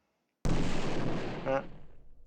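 Artillery fire striking a unit in Final Liberation: Warhammer Epic 40k lands as a sudden loud boom that rumbles for about a second, with a brief rattling crackle before fading out.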